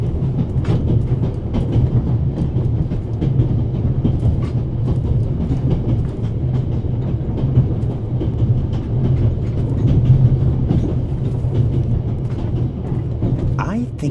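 A train in The Raven Remastered runs with a steady low rumble and faint rhythmic clatter throughout, loud and continuous, with a voice speaking over it.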